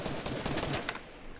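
Rapid gunfire from a Fortnite match fills the clip, a burst of loud close shots that stops partway and leaves quieter game ambience behind, with no talk over it.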